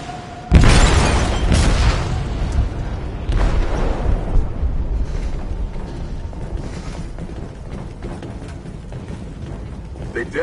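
A heavy blast inside a ship's hold in Detroit: Become Human, a loud sudden boom followed by a long rumbling, clanking metallic aftermath that slowly fades.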